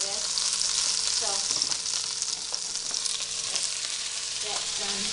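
Meat browning in a hot pan gives a steady, close sizzle and crackle with occasional stirring scrapes throughout, no speech over it.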